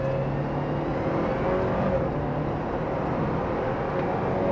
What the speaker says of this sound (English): let's slow it down around here and do a acceleration from 15, 1, 2, 3, all the way.